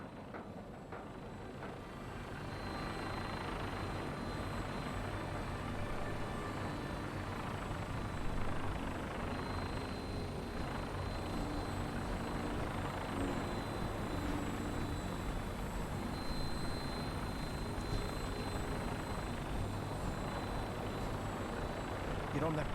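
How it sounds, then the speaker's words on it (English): A fully armed vertibird gunship from Fallout 4 idles on standby, a thick continuous rotor and engine rumble that swells after a couple of seconds and holds steady, with voices talking over it. "we have a vertibird on standby, fully armed and ready to depart"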